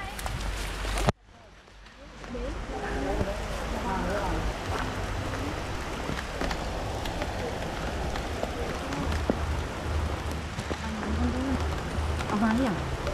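Rain falls steadily in a continuous hiss that starts after a brief sharp cut near the beginning, with voices talking over it throughout.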